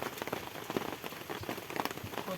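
Rain falls steadily onto a surface in a dense, even patter of close drops, with no voices.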